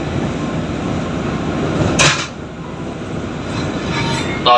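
A Japanese-built JR 205 series commuter train runs near Manggarai station, a loud steady rumble of wheels on track with a brief clank midway and a sharper rattle at the end, no voices.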